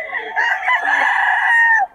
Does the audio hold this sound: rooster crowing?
yes